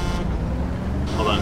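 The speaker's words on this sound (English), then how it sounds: "Honk your horn." A car horn honks in the DayZ video game, a sustained toot over a steady vehicle engine rumble, ending with a brief higher tone.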